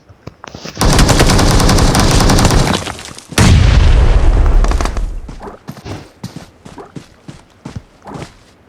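Grenade blast and gunfire in the PUBG Mobile battle game: a long roar of rapid automatic fire gives way to a heavy, booming explosion that rumbles and fades, followed by scattered footsteps and small impacts.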